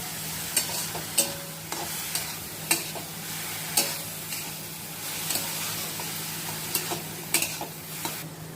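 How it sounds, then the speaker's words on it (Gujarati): Finely chopped cabbage and capsicum sautéed in a pan with turmeric and salt for momo filling, a soft continuous sizzle punctuated by sharp, regular scrapes of a spoon stirring against the pan, close and without any talking. "મસ્ત કોબીજ કેપ્સિકમ સંતળાઈ ગયા છે"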